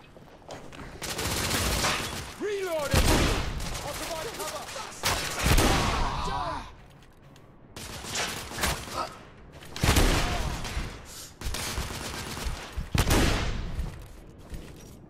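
Sustained bursts of suppressing gunfire in The Order: 1886, loud and near, with rapid volleys and heavy impacts coming in several waves separated by short lulls.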